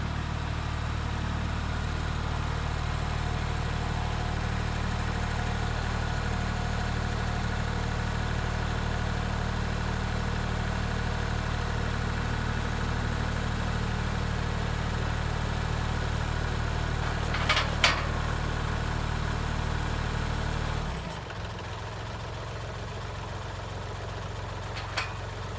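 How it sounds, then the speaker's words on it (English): A Kubota L3301 tractor engine idles with a steady low rumble and hum throughout, a brief clank near the end before the tone drops lower and quieter as the idle settles. "Let's get the tractor out."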